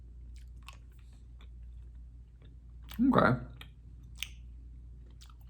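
Someone chews a grapefruit-flavoured, taffy-like German candy up close, giving soft sticky clicks and a louder wet chomp midway, with one brief spoken word.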